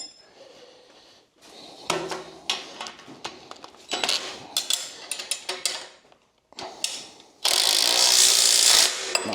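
A 3/4 socket wrench ratchets bolts during a PowerLift sled lift installation in a close series of rapid clicking bursts separated by pauses, ending in a louder, continuous metallic rattle.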